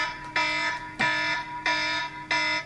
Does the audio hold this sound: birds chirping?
no